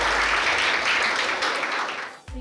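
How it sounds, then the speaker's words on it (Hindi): Hall audience at a success felicitation ceremony breaks into dense, loud applause welcoming a guest on stage, sustained clapping that dips briefly at the very end. "तो एक बार जोरदार तालियों से स्वागत कीजिएगा"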